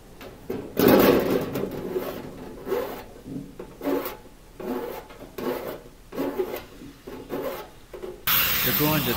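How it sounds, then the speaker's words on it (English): A hand file rasps burrs off the cut edge of aluminium during a flat-deck motorcycle trailer conversion, giving about eight close, rough rhythmic strokes with short pauses between them. "Grinder does leave burrs, so a little bit of filing's needed."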